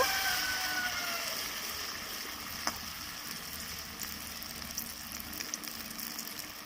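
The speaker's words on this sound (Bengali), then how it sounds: "চাল বাটার মধ্যে ডুবিয়ে ভেজে নেব।" Pumpkin flowers coated in rice batter fry in hot oil with a steady, fairly quiet sizzle and occasional small pops, continuous throughout with no talking.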